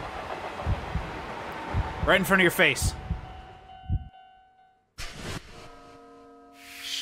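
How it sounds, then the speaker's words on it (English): A train arrives in the video game Spirit Hunter: NG with a rumbling approach, a brief horn-like tonal blast, then a cut to ringing tones. Someone speaks over the start. "Oh, now you get here, train."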